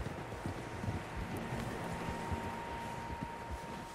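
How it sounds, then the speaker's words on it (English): Several horses gallop in Red Dead Redemption 2, a steady rhythmic clatter of many hooves under a constant wind-like rush, moderately loud and continuous with no talking. "Horses, quite a few of them."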